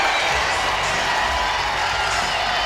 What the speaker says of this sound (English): That gets the crowd very enthused.